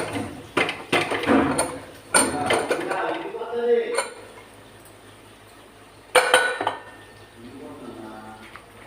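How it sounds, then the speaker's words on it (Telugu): A pressure cooker that has just cooked chicken biryani is opened, with metallic clanks and clinks of the lid and utensils in bursts, fairly close, against a low kitchen background. "కుక్కర్ ఇది ఓపెన్ చేసి చూపిస్తాను."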